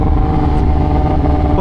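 A Kawasaki ZX-10R sport bike engine roars loud and close, a steady high-revving drone held for the full stretch with no voices.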